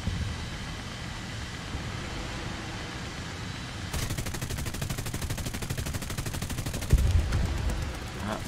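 Rapid 20 mm cannon fire from a J21RA jet fighter in War Thunder, a fast steady stream of shots over the constant roar of the jet engine, starting partway through and running on to the end.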